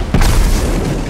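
A single grenade blast in the Destiny 2 Trials of Osiris mode, a loud, dense boom that bursts in abruptly and holds a rumbling roar for about a second, with no voices over it.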